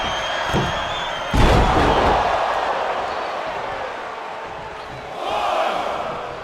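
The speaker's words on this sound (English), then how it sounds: "Jacob Fatu feeding off the crowd, feeding off their energy" Arena crowd cheering during a WWE 2K25 wrestling match, a steady roar of noise that surges loudly once and swells again near the end, with commentary-like voices mixed in.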